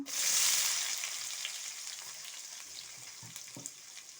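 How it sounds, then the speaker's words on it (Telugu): Finely chopped onions sizzle loudly as they drop into hot tempering oil for a Telugu ridge gourd and chana dal curry, a bright frying hiss that peaks at the start and settles into a steady crackle with small stirring bumps. "పోపు వేగిందని సన్నగా తరిగి పెట్టుకున్న ఆనియన్స్ వేస్తున్నాను."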